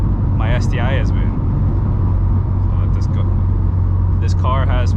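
A Subaru WRX STI fitted with a Tomei Ti titanium exhaust drones along at a steady, loud low rumble from inside the cabin, with brief chirps and a voice now and then over the continuous engine note.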